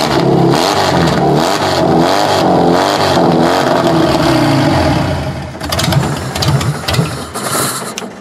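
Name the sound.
car engine running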